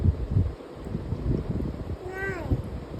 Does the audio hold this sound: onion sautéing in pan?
no